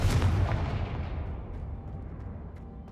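A Confringo blasting spell in Hogwarts Legacy lands as a loud, close booming explosion that bursts at once and then trails off in a rumbling decay over a few seconds.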